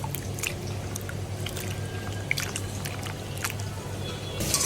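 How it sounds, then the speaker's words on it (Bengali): Wet squishing and splashing of hands washing dried ribbonfish in cold water, with scattered drips and sloshes over a low background hum. "এভাবে পরিষ্কার করে ধুয়ে নিতে হবে।"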